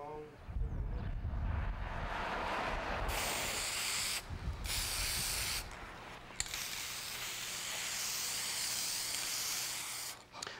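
Spray gun applying clear lacquer finish to a handmade piece, a steady close hiss in several long bursts with brief pauses, preceded by a voice talking at the start.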